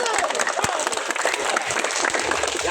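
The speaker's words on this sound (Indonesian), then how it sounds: "Ya, tepuk tangan." Crowd applause at an outdoor protest by gold panners in Timika, a dense, continuous wash of clapping from many people, loud and close, with voices mixed in.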